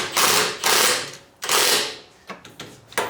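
A hand ratchet clicks in bursts while tightening a nut onto an upper control arm bolt on a first-generation Toyota Sequoia, close and crisp, three quick runs of rapid pawl clicks with short pauses between.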